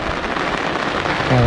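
Heavy rain pours steadily at a fishing pond, a dense, even hiss of drops close by that fills the whole stretch, with a low rumble rising near the end.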